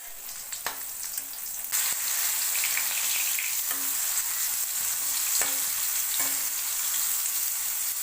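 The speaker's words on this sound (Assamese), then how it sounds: "নিমখো দি দিম একেলগে আৰু ভাজিম ভেন্দি আৰু কাচকল দুফালকৈ ভাজিম" Okra and raw banana frying in oil in a pan, a steady close sizzle with occasional sharp pops and scraping stirs, louder after the first couple of seconds.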